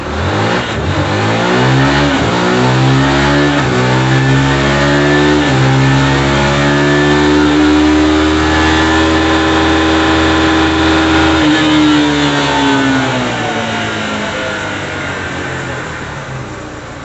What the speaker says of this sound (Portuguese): eu vou passar a moto em terceira ali e em quinta